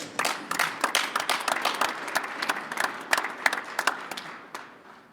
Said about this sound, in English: Let's give a big round of applause to Mr.